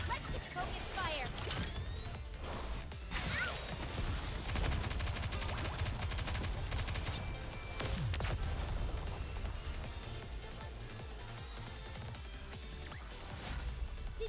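Video game gunfire in Goddess of Victory: dense bursts of rapid shots and crashing impacts run throughout at close range, layered with game sound and music.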